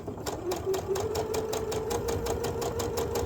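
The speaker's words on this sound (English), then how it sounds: "as I sew I will guide it" Domestic sewing machine stitching a long diagonal quilt seam for a wave block, running steadily with a fast, even mechanical chatter and faint motor hum, close up throughout with no talk.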